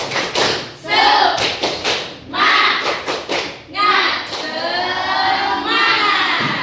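A school class claps the rhythmic 'tepuk semangat' cheer in bursts of quick unison claps separated by short pauses, with children's voices chanting and shouting along, close and loud.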